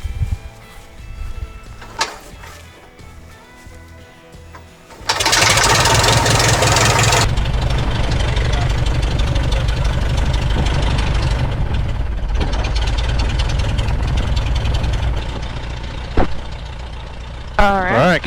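Luscombe light airplane engine cranking with a rough, chugging start, then catching into a steady, close idle, with a burst of prop blast as it fires up and talk over it.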